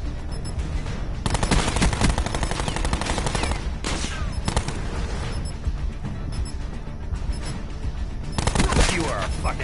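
Bursts of automatic gunfire from the video game Call of Duty Black Ops 4 ring out loud and dense, rapid rattling volleys with short pauses, while people talk over them.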